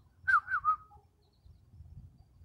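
A bird calls with three quick whistled notes close by, then falls quiet over a low background rumble.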